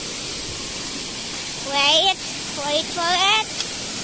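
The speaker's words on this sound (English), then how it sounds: "The waterfall is here!" A woodland waterfall roars as a steady, loud wash of rushing water throughout, while a voice speaks briefly over it in two short bursts.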